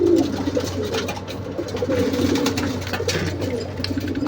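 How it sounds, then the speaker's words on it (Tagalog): Pigeons in a loft coo steadily, a dense flock producing overlapping low throaty calls throughout at close range, with no talking. "Ayan sila mga kalapatids, no? Dami."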